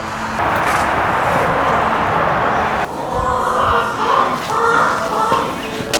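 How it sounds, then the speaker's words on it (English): A hen clucks in short bursts nearby over a steady background hum, with some faint movement noise, in a workshop where a Ford F100 truck is being restored. "Hi, chicken."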